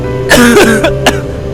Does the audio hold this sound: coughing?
yes